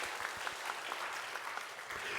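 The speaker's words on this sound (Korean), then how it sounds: "박수 하시겠습니다." Church congregation applauding at a Wednesday prayer meeting, a steady, fairly faint patter of many hands clapping on its own for a couple of seconds.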